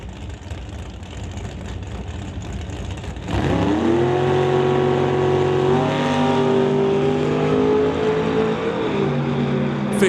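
Drag racing cars launch down the strip, including a 1969 Camaro and a 588 cubic inch machine, with a loud sudden engine roar at about three seconds that holds steady with rising harmonic revs, no speech.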